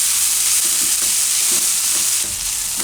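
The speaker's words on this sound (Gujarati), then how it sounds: "એમાં આપણે નાખી દઉં આદુ મરચાંનું લસણ એટલે બધું થોડીક વાર પાકવા દઉં" Chopped ginger, green chili and garlic sizzle in hot oil in a pan for an onion-potato curry, a steady close crackling hiss with faint stirring scrapes and no talk.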